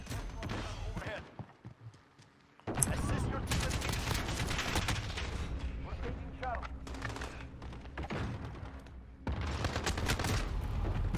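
Rapid bursts of automatic gunfire and scattered shots crackle in multiplayer Call of Duty: Modern Warfare (2019), dense and loud after a brief lull, with a player's voice faintly underneath.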